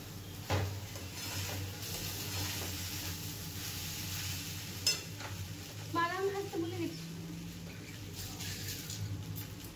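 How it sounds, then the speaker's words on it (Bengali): Gobindobhog rice is dry-roasted in a pan, heard as a quiet, steady rustling stir with occasional utensil clinks and scrapes against the metal, with a faint whistle-like tone partway through. "মানে একটু ভাজা ভাজা করে নেবো চালটাকে"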